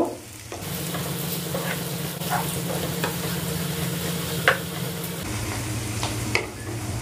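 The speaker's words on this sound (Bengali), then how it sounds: "আমি পেঁয়াজগুলো লাল লাল করে ভেজে নেব" Onions frying in a pan until reddish-brown, a close, continuous sizzle with occasional stirring clicks and scrapes, no voices.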